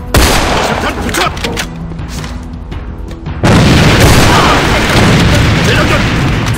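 A grenade going off in the shooter game A.V.A on the Dock map: a sudden loud blast lands midway and rolls into a sustained heavy rumble with crackling debris, after a stretch of scattered gunfire and game noise.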